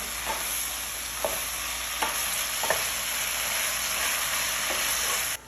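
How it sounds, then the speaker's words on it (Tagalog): Eggplant sizzles in a pan for hamsa while a utensil stirs, a constant close frying hiss broken by four or five soft scraping strokes at a slow, irregular pace. "add ko na itong eggplant. At i-mix ko siya"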